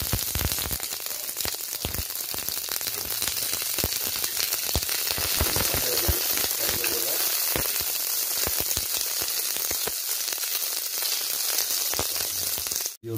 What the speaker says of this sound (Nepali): त्यो प्याज फ्राई गर्नेछु